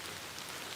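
Rain from Hurricane Delta's outer bands falls steadily near a creek, a soft, even hiss of drops with no voices.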